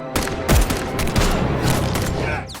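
A rapid burst of loud film gunfire, several shots cracking in quick succession with booming echoes, close and intense, ending abruptly.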